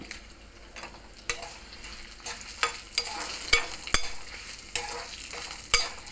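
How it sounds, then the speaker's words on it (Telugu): Steady oil sizzle of dried red chillies frying in a pan, with scattered sharp crackles and pops and occasional stirring scrapes, close up, no voices. "ఈ వేడికి ఇది ఎండుమిరపకాయలు అవి కూడా వేగిపోతాయి"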